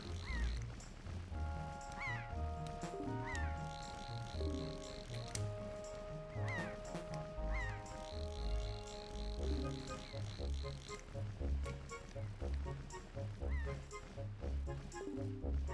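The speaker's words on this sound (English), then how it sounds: "There's a bird." Bird calls in The Legend of Zelda game play over looping background music, repeated honking and squawking cries rising and falling across the clip at moderate volume.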